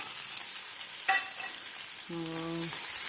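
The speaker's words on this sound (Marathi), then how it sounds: "मोहरी आपली छानशी तडतडली त्याच्यात जाणार कढीपत्ता आणि लसूण जिरे हिरवी मिरची" Mustard seeds crackle and splutter in hot oil with curry leaves, garlic, cumin and green chili, a steady high sizzle broken by a few sharp pops, with a brief tonal hum late in the sound.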